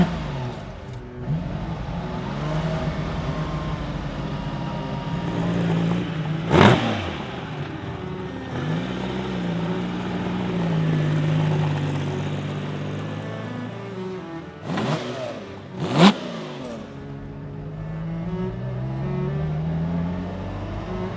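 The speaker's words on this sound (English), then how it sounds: "today, we're gonna take it for its first test drive here in Miami." A Lamborghini Miura SV, freshly restored, is driven on its first test drive in Miami, its engine humming steadily with two sharp revving bursts rising briefly above the drone.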